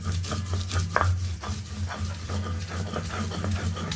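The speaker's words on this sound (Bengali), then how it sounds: "আগে গুলো বাটবো তারপরে সরিষা বাটবো" Mustard seeds being ground on a grinding stone for bhorta, a steady rough rubbing and scraping that continues close up and loud, with brief louder strokes and no voices.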